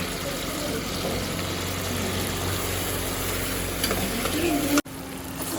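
Chopped tomatoes with salt frying and being stirred in a pan: a steady, close sizzling hiss that runs unbroken, then cuts out abruptly near the end.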